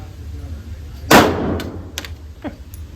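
A single sharp pistol shot from a Glock 42 or Ruger LC380, loud and close with a short ringing decay, followed by a few faint metallic clicks.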